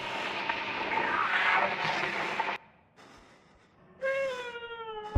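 A cat in the horror video game Conarium meows and wails amid harsh noisy rumble, then after a brief quiet, a drawn-out rising-falling yowl rings out clearly.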